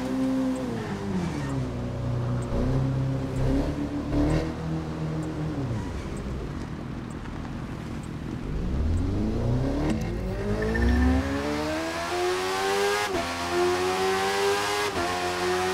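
A BMW S1000 RR sport motorcycle engine in the video game The Crew 2 revs and accelerates steadily, its pitch rising and falling through gear changes and then climbing sharply, loud and continuous with no voices.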